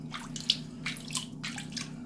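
Cold water sprayed over a pet parrot bathing indoors, heard as a steady fine hiss with irregular splashing bursts and droplet spatter, fairly close and continuous with no talk.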